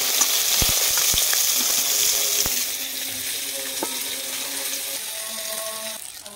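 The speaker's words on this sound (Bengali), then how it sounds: "তো আমি এইভাবে নরম করে ভেজে নিচ্ছি।" Rohu fish pieces sizzle and crackle steadily as they fry in oil in a pan, with a few sharp clicks of utensils, the hiss easing slightly toward the end.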